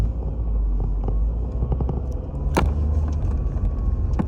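A new all-wheel-drive car driving on a snowy road, heard from inside as a steady low engine and road rumble with a few faint knocks and one sharp click partway through.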